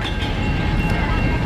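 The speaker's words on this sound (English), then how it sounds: "Look at the train." A toy train runs steadily as a present is opened at home, producing a continuous rattling, whirring hum with faint clicking, close by and without pauses.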